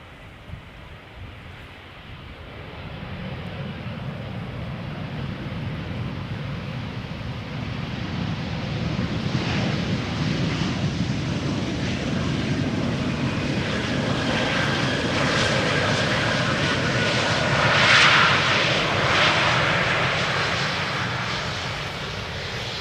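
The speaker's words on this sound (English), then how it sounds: "German Airways up next, Embraer 190, flight 912 on behalf of KLM, returning from Aberdeen" An Embraer 190 jet on approach to land at Amsterdam Schiphol Airport, its engine roar building from faint to loud and sustained, peaking near the end as it passes close overhead, then easing slightly.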